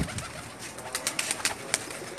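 Teddy pigeons coo softly in a loft, with a steady murmur of overlapping low calls and a few sharper flutters or clicks standing out, moderately close and without speech.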